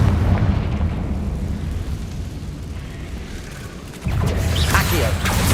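Confringo fire spell from Hogwarts Legacy, a loud rumbling blast heard at the start that dies down, then a sharp new burst with crackling debris near the end, amid continuous game noise.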